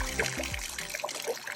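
Water trickles and splashes steadily from a boat's engine freshwater flush at a dock, a close continuous dribbling with brief lower gurgles near the start.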